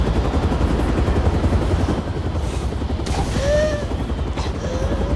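A helicopter in the video game Beyond Two Souls gives a loud, dense rhythmic thumping drone, with a few short whistling tones and thuds layered over it.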